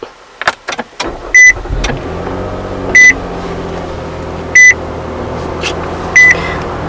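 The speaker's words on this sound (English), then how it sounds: "put your foot on the brake and tap the start stop button to fire it up" A 2018 Nissan Pathfinder SV starts by push button: a few faint clicks, then a low engine rumble that settles into a steady idle, with four loud chime beeps repeating at even intervals.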